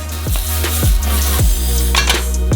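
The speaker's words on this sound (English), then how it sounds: "put them all into a frying pan to fry" Steady sizzling of mushrooms frying in a pan, with a few soft scraping stirs and low thumps throughout, no voices.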